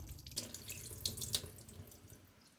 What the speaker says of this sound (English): I wash the salmon with the water to get rid of the sugar.